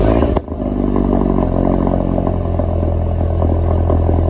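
A loud Volkswagen MK7 GTI engine revs hard with a throaty exhaust roar, holding a sustained rumbling drone after a brief dip at the start.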